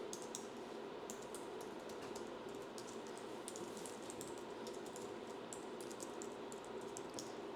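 Fingers type quickly on a computer keyboard, producing a close, continuous run of light clicking keystrokes at low volume, with no voices.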